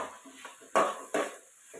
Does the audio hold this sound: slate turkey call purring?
no